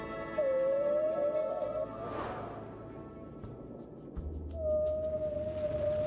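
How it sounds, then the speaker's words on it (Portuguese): Humpback whale song underwater: long, tonal moaning calls that rise and hold steady, separated by a brief whooshing swell, with a low rumble beneath. "Esta melodia impressionante pode ser ouvida por outras baleias jubarte"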